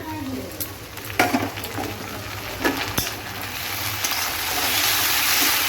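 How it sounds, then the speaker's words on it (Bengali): Onions and ginger-garlic paste fry in a pan for Bengali doi chingri, giving a steady, moderate sizzle with a few soft knocks and scrapes of a utensil. "ভালো করে আমি পেঁয়াজটা লাল লাল করে ভেজে নেব"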